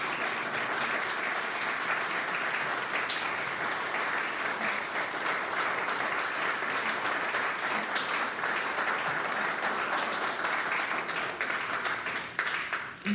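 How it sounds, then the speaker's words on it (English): An audience applauds the panelists at a program remembering Oberlin Black business owners, a sustained, even roar of many hands clapping that continues for over ten seconds before tapering off at the end. "let's give our panelists a round of applause."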